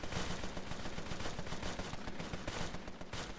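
Rapid bursts of gunfire from the Empire of Sin video game rattle continuously and loudly, dense overlapping shots forming a sustained fusillade throughout with no voices.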